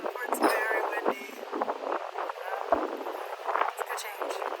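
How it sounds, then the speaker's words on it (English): Strong outdoor wind blusters against the microphone in uneven gusts on a cloudy day, mostly under someone talking. "It's so windy out there."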